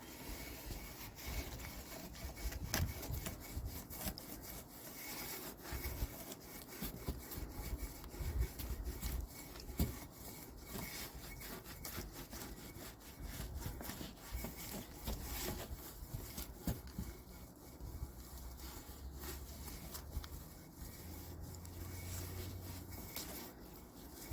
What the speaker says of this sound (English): That's when I get the clean microfiber cloth.